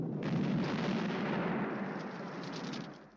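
An explosion goes off under James Bond's bed in the 1983 film Never Say Never Again, a loud roaring blast that rumbles on steadily and then fades out, with no voices.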